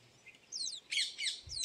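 A sparrow chick peeps from inside a nest hole. Its thin, high-pitched chirps come in quick repeated bursts, fairly close and clear over a quiet background.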